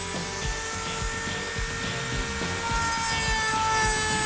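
A Dremel rotary tool fitted with a high-speed cutter whines steadily while cutting, a loud continuous high-pitched drone with a buzzing motor tone and no pauses.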